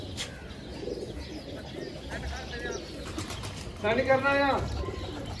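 Pigeons coo in a loft where birds are being caught in a net, soft rolling calls near at hand with a louder burst of cooing toward the end over background noise.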